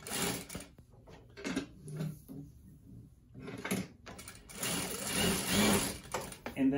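A Consew single-needle lockstitch direct-drive industrial sewing machine runs in short bursts, close and fairly loud, with intermittent talk around the stitching while a thread pickup problem is discussed.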